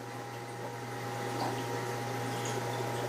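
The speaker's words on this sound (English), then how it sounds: "can you hear the pumps and can you hear the water gurgling from my filtration system?" Aquarium pumps and a filtration system hum steadily with a low tonal drone, with soft water gurgling and bubbling layered on top throughout.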